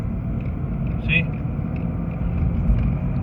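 A manual-transmission car engine runs with a low, steady rumble at low revs, droning close by beneath someone talking.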